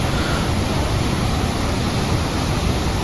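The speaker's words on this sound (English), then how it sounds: "The river flowing like this. The sound of the water is simply amazing" A river rushing through a deep gorge near Pokhara, a loud, constant roar of flowing water filling the whole clip without pause or voices.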